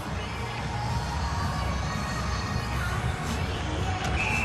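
Swedish ice hockey fans at a junior world championship game cheer as a steady, dense crowd roar with scattered shouts, a continuous wash of voices throughout.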